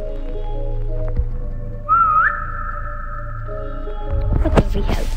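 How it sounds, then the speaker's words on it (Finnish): A person whistles a short rising, sliding melodic phrase near the middle, clear and close over a steady background hum, followed by some rustling. "Kato viheltelee."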